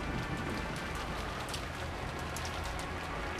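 Steady rain falls on surfaces in a stormy night scene from the video game Umineko: When They Cry, a dense, continuous hiss of drops with faint individual pattering, even in loudness and without any voices.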